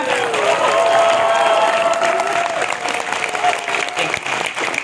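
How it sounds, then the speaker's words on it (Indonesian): Loud, sustained clapping from a large audience at a horror film Q&A, with a few cheers and a voice rising above the crowd. "tepuk tangan yang lebih keras semuanya"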